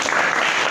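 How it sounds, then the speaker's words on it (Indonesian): Classroom applause for a student group in an automotive engineering class, a short dense burst of clapping from the room, steady and fairly loud throughout. "Oke, tepuk tangan untuk kelompoknya Mas Rana ya."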